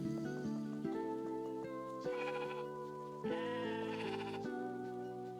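Sheep bleating in a video game, set over steady game music; repeated bleats come through at a moderate level with no talk.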